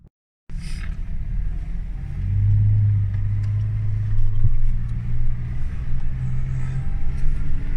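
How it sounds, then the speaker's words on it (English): Steady low engine rumble of a long convoy of cars driving on the Namib dunes in Namibia, swelling slightly as a motor revs, continuous and fairly loud with no voices. "It's a lot of cars, and the convoy is quite long."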